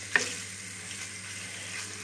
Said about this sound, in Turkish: İlk aşamada yüksek ateşte kavurmamız çok önemli.